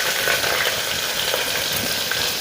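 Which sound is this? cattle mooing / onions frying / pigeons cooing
onions frying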